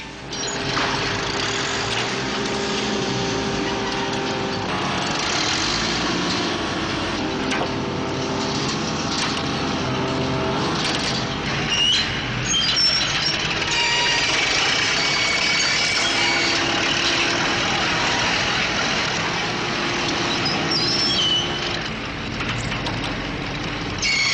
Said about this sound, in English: After the crane almost tipped over, they managed to drag the block a few yards.